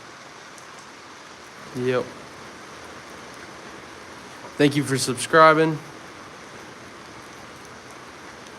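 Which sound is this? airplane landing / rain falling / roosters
rain falling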